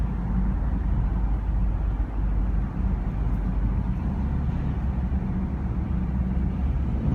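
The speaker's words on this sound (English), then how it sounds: "when you're not on it, sounds like just a normal everyday car" Dodge Durango fitted with a $150 aftermarket exhaust, driven gently: a low, steady engine rumble that stays even and unremarkable throughout, with no talking.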